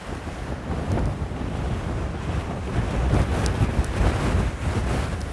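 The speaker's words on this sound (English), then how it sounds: "It's so windy" Strong, steady wind roars and buffets the microphone on an exposed Pacific Crest Trail hiking path in fog, a loud continuous rush with gusts swelling throughout and no voices.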